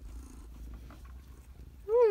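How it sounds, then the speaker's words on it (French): A pet cat gives a single short, rising meow at close range after a stretch of quiet low rumbling purring. "Elle miaule depuis tout à l'heure."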